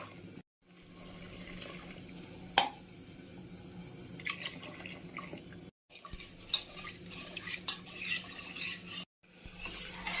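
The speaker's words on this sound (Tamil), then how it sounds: "இதுக்கு வந்து 3 பங்கு வாட்டர் ஆட் பண்ணி நல்லா மிக்ஸ் பண்ணி" Ground mappillai samba rice is stirred with water in a pot, soft liquid swishes and drips at a low level with a few sharper clinks, short silent gaps between bursts.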